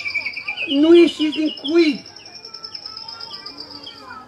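A human voice imitates a swallow feeding its chicks with a burst of chirps and twittering whistles, loud and close, which then fades into a quieter stretch.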